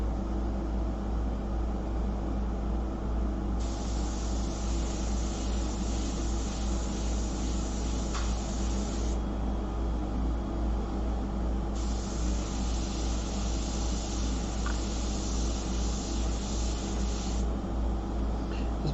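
An airbrush sprays paint onto a full-color fashion portrait in steady hissing bursts, two long stretches of spray over a constant low background hum, with no talking.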